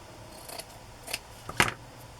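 Scissors snip through the finished edge of a piece of fabric in a few short, crisp cuts, the last one loudest, close by against a quiet background.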